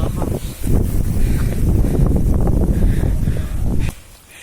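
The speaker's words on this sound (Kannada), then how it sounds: "ಗಾಳಿ" Strong wind buffets the microphone with a heavy, rumbling roar that holds steady, then drops off abruptly just before the end.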